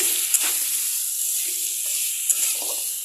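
Potato and green banana curry sizzles steadily in a pan while being fried down, with a few brief scrapes of stirring cutting through the continuous hiss.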